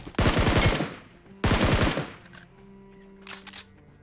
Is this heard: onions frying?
no